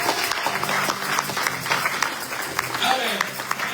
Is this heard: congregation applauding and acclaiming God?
yes